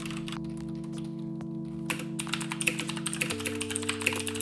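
Fast typing on a Thermaltake Poseidon Z mechanical keyboard with Kailh Blue switches, a dense stream of close, crisp clicky keystrokes picking up partway through over a faint background hum.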